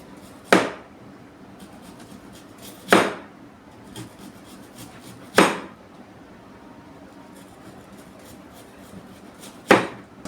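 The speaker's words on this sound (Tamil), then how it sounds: "ஸோ ஃபர்ஸ்ட் விஷயம் இந்த வெங்காயம் நம்ம கட் பண்ணணும்." Four sharp knife chops on a yellow cutting board while cutting onion, spaced a couple of seconds apart, fairly close and crisp against a quiet background.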